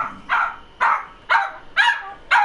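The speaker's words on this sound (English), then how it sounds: "There's the dog again." A Cavalier King Charles spaniel barks five times in a steady, evenly spaced rhythm. The barks are sharp, nearby and moderately loud over a quiet background.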